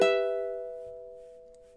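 A single plucked ukulele note from a fast picking melody rings out clearly and decays slowly on its own.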